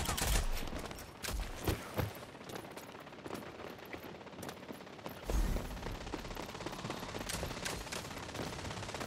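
Gunfire rattles through a competitive video game match as dense bursts of rapid shots, some loud and near, others quicker and fainter, running continuously with overlapping clicks and mechanical sounds.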